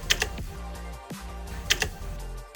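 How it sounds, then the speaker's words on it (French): Control buttons on a steampunk-style speaker give crisp mechanical-keyboard clicks, heard close up in two quick bursts of several presses about a second and a half apart. "ils cliquent comme lorsque vous tapez sur un clavier mécanique"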